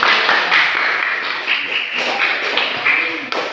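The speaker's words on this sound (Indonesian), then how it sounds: "Ayo berikan aplaus semangat untuk kelompok" Students give a group applause in a classroom during a social-interaction lesson: steady, dense clapping from many hands runs through the whole stretch, fairly close, with a few sharper claps standing out.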